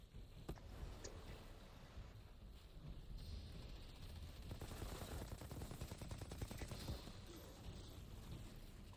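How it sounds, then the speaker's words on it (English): Rapid automatic gunfire from the video game Outriders, played on PS5, rattling in dense bursts through the whole stretch at steady loudness, with game sounds layered beneath. "That is gunfire."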